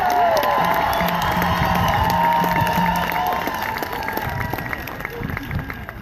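A crowd at an outdoor rally cheers and applauds in cold weather, a broad swell of clapping and shouts that fades gradually, with a voice talking over it.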